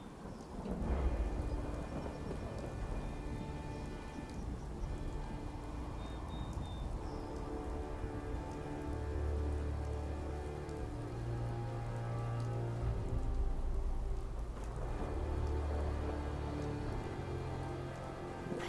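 Steady rain and rolling thunder in the video game Fallout 4, a continuous downpour with low rumbles swelling and fading throughout, loud and close.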